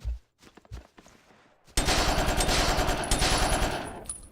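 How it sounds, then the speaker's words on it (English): Heckler & Koch G3 rifle fire in a Battlefield video game: a few scattered shots first, then a long sustained burst of loud, rapid automatic gunfire, alone without voices. "This Heckler und Koch G3 is doing a good job"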